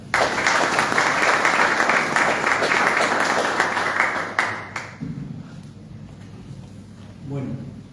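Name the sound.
audience applause at book presentation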